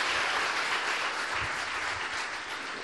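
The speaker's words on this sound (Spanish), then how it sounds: "Un aplauso para ustedes" An audience claps steadily through a live public show built around reading wishes, giving an even, continuous wash of applause with no voices standing out.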